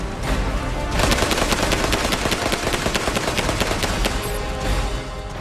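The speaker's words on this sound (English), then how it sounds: "I provided suppressive fire." An AK-47 rifle lays down suppressive fire during a close-quarters shooting drill, with targets popping up. Rapid, steady shots crack close and loud, one after another, for several seconds with no talking.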